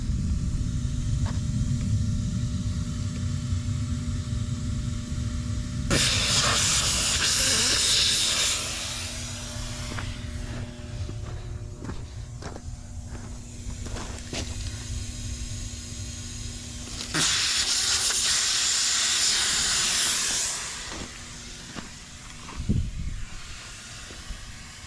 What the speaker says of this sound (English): They are preset to 17 psi, so all I gotta do is just leave them on the tires and my tires will deflate themselves.